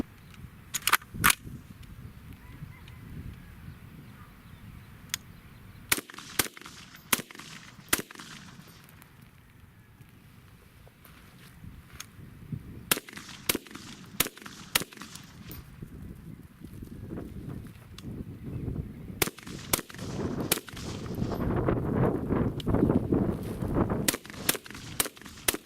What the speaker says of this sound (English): here's the Daniel defense in 308